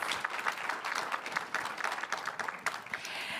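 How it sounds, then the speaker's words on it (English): An audience at a high-level universal health coverage forum applauds the panelists, a steady patter of many hands clapping at moderate volume, with no one speaking over it. "A round of applause for our panelists."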